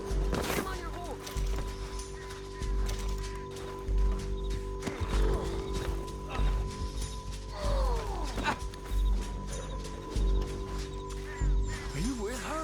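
A horse in Red Dead Redemption 2 snorts and whinnies while hooves clop, set under tense voices of people talking and shouting during an escape.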